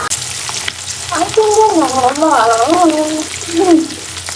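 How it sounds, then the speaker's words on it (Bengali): Fish frying in a pan for a Bengali fish curry, with a steady bubbling sizzle throughout and a voice talking over it in the middle. "যে মাছগুলো ভাজা হতে থাকুক।"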